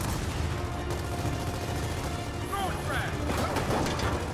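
Gears of War 4 combat: gunfire and impacts crackle over a steady storm-like roar, with a sharp burst near the end that could be a grenade blast, under faint talk.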